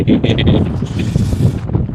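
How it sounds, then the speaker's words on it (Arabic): Wind buffets the microphone outdoors on a cold, sunny day, a steady low rumbling roar that runs the whole way through, with faint voices mixed underneath. "الدنيا هوا"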